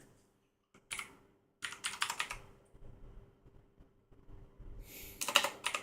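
Short bursts of typing on a computer keyboard, quick clicky keystrokes in clusters separated by quiet pauses, close and fairly soft.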